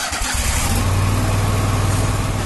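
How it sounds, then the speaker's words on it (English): A Kubota Commander zero-turn mower engine cranks briefly, then catches and settles into a loud, steady running drone with a rough mechanical rattle, close and alone without voices. "That's the sound of the Commander, Kubota's top-selling zero-turn mower."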